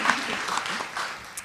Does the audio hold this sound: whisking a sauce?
no